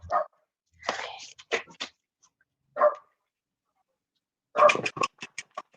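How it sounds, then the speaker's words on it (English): A loud dog barks in scattered bursts nearby, some sharp yips and a quick cluster of barks, with a voice talking in between. "that dog is loud"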